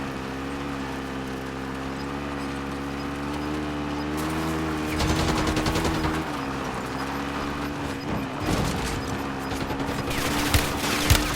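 Gunfire rattles in Warzone Resurgence, bursts of rapid automatic shots breaking out midway over a droning engine-like hum, with repeated loud volleys toward the end.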